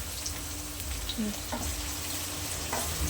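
Puri oggarane frying in a pan after salt is added, a quiet steady sizzle with faint scraping of stirring and a few soft clicks throughout.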